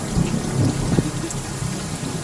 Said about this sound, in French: Les premières gouttes commencent à tomber.